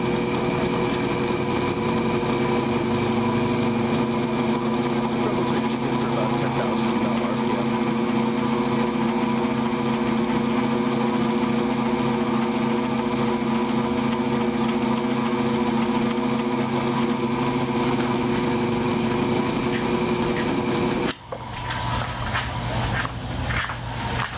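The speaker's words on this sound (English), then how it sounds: "I just tie them together to a piece of metal with a shaft that fits perfectly into my Dremel" A Dremel rotary tool spins a small cleaning rig for optics in a sink, giving a steady, loud, high-pitched motorized whine that holds constant before shifting abruptly near the end.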